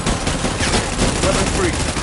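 Heavy gunfire in the video game Death Stranding: a dense, continuous burst of rapid automatic shots, loud and close throughout.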